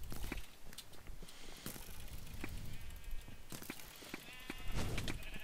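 Sheep in a multiplayer arcade video game bleat repeatedly, several quavering calls spread across the clip among clicks and mechanical game noises, fairly faint overall.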